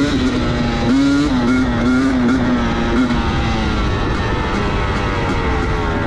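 A 2022 OMRA Outlaw Racing Drifter SE off-road race car roars through a lap with a loud, steady engine drone. The pitch rises and falls slightly as it works the course, with no speech over it.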